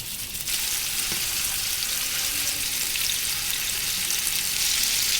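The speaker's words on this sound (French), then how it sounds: "je vais venir faire saisir la viande" Lamb pieces searing in hot neutral oil, giving a loud, steady, close sizzle that jumps up after a brief quieter start and holds evenly to the end.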